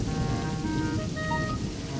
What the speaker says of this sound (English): Rain on Sunday, rain on Monday, and rain on Tuesday.